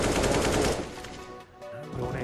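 Rapid automatic gunfire from a Counter-Strike match, a dense burst of shots up front that fades into quieter game ambience after about a second.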